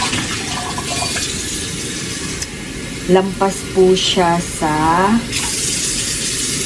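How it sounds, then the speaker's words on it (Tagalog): Water runs steadily into a pot holding salted tuna being cooked in a home kitchen, with a continuous hiss and bubbling splashes while a person talks over it. "ang mangyayari po ay lalagyan na natin ng tubig"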